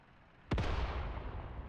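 Artillery in a Cold War-era war video game fires a single sharp boom at BTR armored vehicles, followed by a long rolling rumble and echo, fairly distant and moderate in level.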